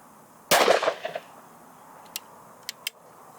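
A Beretta Silver Pigeon III over-and-under shotgun fires a single 28 gram shot load from the bottom barrel with half choke: one sharp close blast with a short rolling tail, followed by a few faint mechanical clicks.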